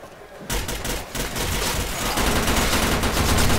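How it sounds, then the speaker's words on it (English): Rifle gunfire in the Arctic Combat shooter, during a QuakeCon free-for-all qualifier match, rattles in dense overlapping bursts that run continuously after a brief quiet start. "So the big guns that are being used, I expect to see, you know, the standard M4, AK, and SCAR."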